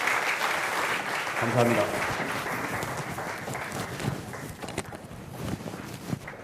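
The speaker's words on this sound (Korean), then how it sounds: "다시 한번 감사의 뜻으로 큰 박수 부탁드리겠습니다" An audience at a business innovation forum held with Changwon National University applauds, a burst of clapping that fades out while someone speaks over it.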